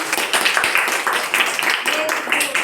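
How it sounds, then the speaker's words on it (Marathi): A class of fourth-grade schoolchildren at a village district council school claps together, a dense, steady patter of many small hands, close and lively throughout. "छान टाळ्या वाजवा तुमच्यासाठी"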